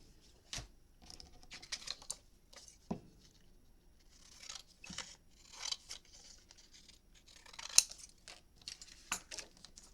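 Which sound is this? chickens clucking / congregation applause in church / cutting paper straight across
cutting paper straight across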